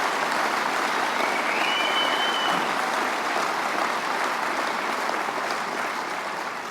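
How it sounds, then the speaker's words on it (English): A large audience at a hospital groundbreaking event in Detroit gives steady, sustained applause, a dense wash of clapping that holds evenly and fades slightly toward the end. "If you're going to clap, that's the place."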